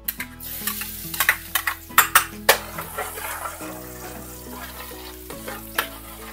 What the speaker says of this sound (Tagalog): Kapag mainit na yung mantika, ilagay na natin itong isang maliit na ulo ng bawang